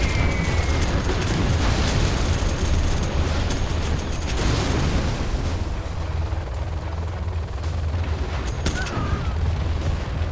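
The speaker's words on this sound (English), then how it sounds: "We do have another bomber coming on in. Carpet bomb." Carpet bomb explosions in the strategy game Command and Conquer Generals form a dense, continuous rumble of overlapping blasts and booms that stays loud throughout, with no talk over it.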